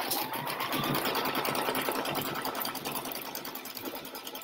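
A sewing machine runs steadily as it tacks down fabric for drink markers, a close, continuous rapid needle whir with no pauses.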